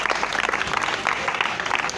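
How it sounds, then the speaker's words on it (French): A church congregation claps together during a worship service honoring the Lord, a dense steady patter of many hands at close range, filling the space without pause. "On acclame les seigneurs."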